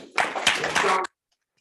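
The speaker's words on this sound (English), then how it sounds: "Round of applause again." A short burst of applause from a group, fairly close and dense, lasting about a second before stopping abruptly into silence.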